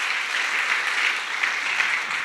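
A church congregation applauds Jesus during a youth service sermon, steady close clapping that holds at an even level from start to finish.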